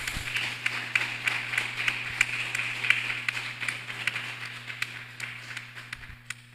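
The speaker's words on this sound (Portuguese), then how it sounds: "Aplauda bem forte a Jesus" A church congregation at a Tuesday evening worship service claps together, a steady crackle of many hands under a low sustained hum, continuing evenly at moderate loudness without talk.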